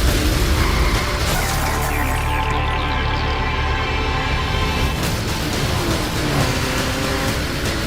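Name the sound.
bridge collapse in the video game Split Second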